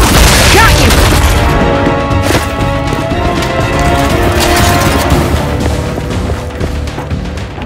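Loud, dense explosive booms and crashing blasts from the video game Gears 5 fill the whole stretch, a sustained roar of detonations and debris with no quiet gaps.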